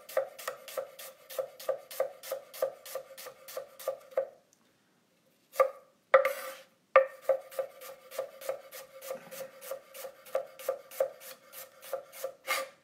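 Knife slicing salad vegetables on a cutting board, a rapid even series of crisp close chops, pausing briefly midway with a couple of scrapes, then resuming the steady rhythm.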